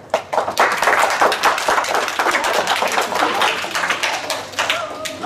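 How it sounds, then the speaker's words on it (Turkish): A group of children applauds together at a mosque Qur'an course gathering, dense overlapping claps with loud uneven slaps close by, steady for several seconds with voices mixed in. "Alkış."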